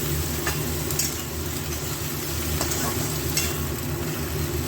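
Fried rice made from cooked rice with mixed vegetables, sizzling steadily in a pan with a few scraping stirs, close and continuous, with a low background hum and no talk.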